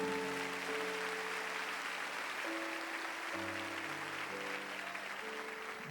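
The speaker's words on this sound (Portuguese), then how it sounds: "Dá um glória a Deus forte e aplauda Jesus se você acompanhou" Congregation clapping during a church service, a steady wash of applause that fills the whole stretch, with sustained keyboard or organ notes holding underneath.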